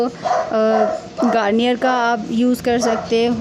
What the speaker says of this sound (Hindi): अगर आपको कुत्ते की आवाज़ सुनाई दे रही होना मेरी आवाज़ के साथ